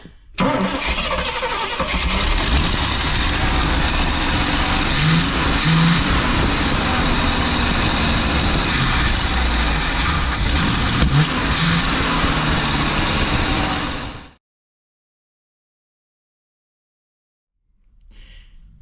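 The engine of a 23-foot Birchaven boat, back running after 12 years, idles loudly and steadily while warming up, then cuts off abruptly near the end, leaving silence.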